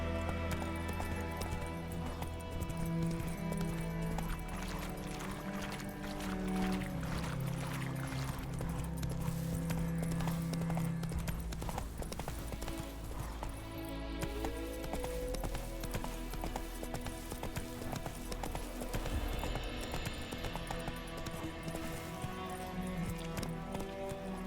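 Horse hooves clip-clopping at a gallop in The Witcher 3, steady and close, layered over a continuous loud game music score with a brief whinny.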